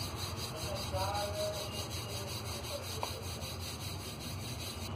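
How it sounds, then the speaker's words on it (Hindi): Egg paratha dough is rolled out by hand with a rolling pin, giving a steady, soft, continuous rubbing and scraping sound that stays at an even level throughout. "अब हल्के हाथों से हम इसे बेल लेंगे।"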